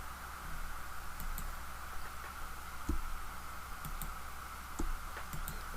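A computer mouse clicks on a spreadsheet's data mining menu, a handful of sharp, faint ticks scattered at irregular intervals over a steady hum of background noise.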